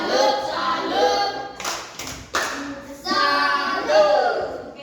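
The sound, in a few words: classroom clapping chant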